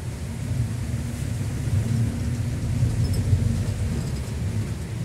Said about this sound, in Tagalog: Lakas talaga ng ulan guys.